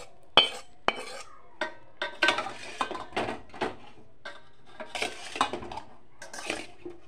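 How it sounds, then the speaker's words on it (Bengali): Ghee and salt being mixed in a bowl while making a paneer dish: a spoon clinks and scrapes against the bowl in quick, uneven strokes, close and fairly crisp, with no talk. "ঘি আর নুনটা আমি মিক্সড করে নেব ভালোভাবে।"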